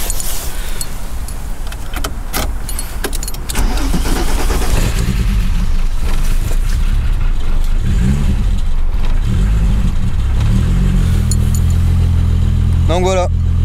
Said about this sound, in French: on va faire la chose que tout le monde attend, c'est-à-dire démarrer un VR6